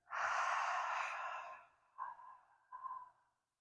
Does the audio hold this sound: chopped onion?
no